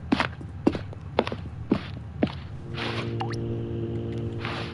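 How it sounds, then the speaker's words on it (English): Water dripping in the video game The Stanley Parable, a series of evenly spaced hollow drops echoing in a quiet space, followed by a faint lingering tone. "I hear water."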